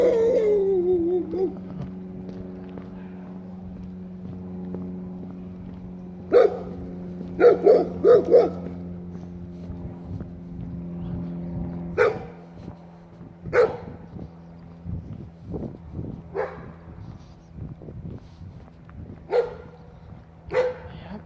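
Dogs bark in repeated sharp bursts, some close together in quick runs and others spaced out, over a steady low hum, moderately loud and with no talking.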